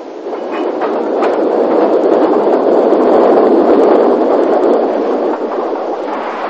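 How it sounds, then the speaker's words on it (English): A very heavy narrow gauge steam train full of holidaymakers, banked at the rear, climbs a gradient toward Port Sodrick, producing a loud, sustained working roar that swells and holds steady without speech. "it's a very heavy train, full of holidaymakers and banked at the rear for the climb up the bank and as far as Port Sodrick"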